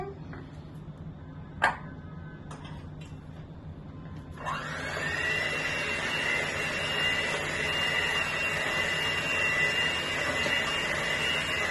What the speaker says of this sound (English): Go ahead and take your mixer.